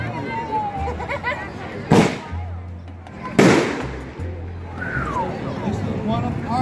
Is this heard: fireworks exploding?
yes